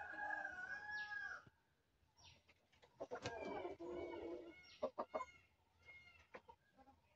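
Village chickens on a poultry farm, several birds clucking and calling near and far, with a rooster crowing amid the flock and scattered sharp squawks.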